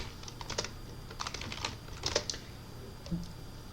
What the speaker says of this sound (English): So now I'm going to type ghost install.